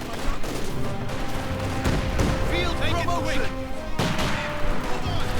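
Machine gun fire in the Company of Heroes 2 strategy game rattles in dense bursts among distant explosions and battle noise, with a commentator talking continuously over the gunfire.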